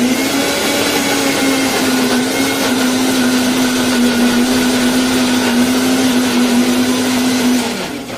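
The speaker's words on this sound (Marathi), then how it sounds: "हे मिक्सरला पाणी टाकून फिरून घ्यायचं" A mixer grinder whirs steadily as ingredients blend with water, a loud continuous motor drone holding the same pitch for about eight seconds before easing off at the very end, with no talk.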